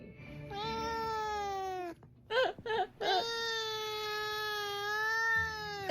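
A pet cat meows in long, drawn-out cries close by, with a few short broken calls in the middle before another sustained plaintive yowl, loud and alone with no talking.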